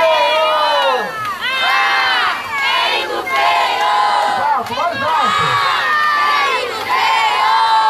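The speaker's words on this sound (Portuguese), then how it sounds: "Vamos fazer o nosso grito de guerra de novo" Crowd of children at a children's party shouting a chanted battle cry in loud, sustained waves, voices rising and falling together with a brief dip in the middle, close and energetic throughout.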